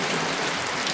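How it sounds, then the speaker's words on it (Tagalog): Heavy rain pouring down during an overnight stranding on the Banaue climb, a dense, steady hiss of downpour that fills the whole moment without a break. "Habang naghihintay kami, doon pa lalo bumuhos yung ulan."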